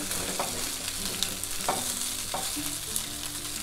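Poha thalipeeth frying in a pan, with a continuous close sizzle and a few soft scraping strokes as it is turned and stirred.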